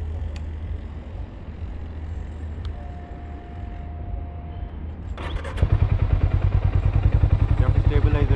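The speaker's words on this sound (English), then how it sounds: "So let's look at the exhaust note of the bike." Harley Davidson X440 motorcycle starts up after a quiet idle-free stretch, then its exhaust settles into a loud, close, steady thumping idle with an even pulsing rhythm.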